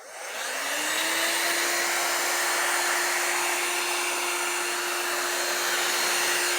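A heat tool switches on and blows steadily over epoxy resin in an ocean-waves pour, a loud continuous whooshing hum with a steady whine that holds to the end, with no voices.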